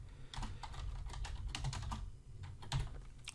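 Fingers type steadily on a computer keyboard while entering text for an After Effects composition, a continuous close patter of key presses with a few louder strokes.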